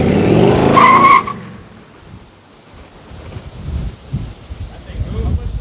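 A Lincoln Continental with a Coyote 5.0 V8 swap rushes past fast and loud for about a second, with wind buffeting, then fades to distant rumble and wind noise.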